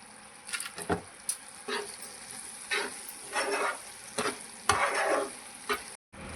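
Tomato pickle bubbling and sizzling steadily in oil in a pan over low heat, with occasional stirring scrapes, close and moderately loud.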